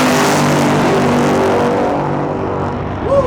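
The Nitro Moose, a 10,000-horsepower single eight-cylinder nitro drag car, roars at full loudness in the water box at a drag strip. The sustained thunderous engine blast fades slightly toward the end.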